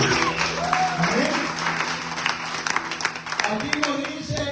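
A church congregation applauds their Saviour during a Spanish-language evangelical service, a dense, sustained wash of clapping with a voice and music tones sounding over it throughout.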